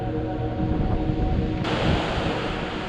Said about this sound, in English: Full of wind on the top of Potato Hill.